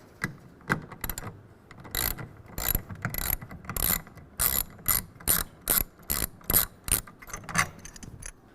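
A 9/16 ratchet wrench loosens a rail clamp on a RetraxPRO MX tonneau cover fitted to a 2023 Ford F-250 HD, giving a close, loud run of rapid clicking bursts in an even rhythm with short pauses between strokes.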